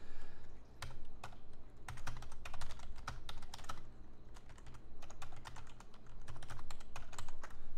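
Rapid, steady typing on a computer keyboard while entering HTML text, with continuous close key clicks over a low background hum.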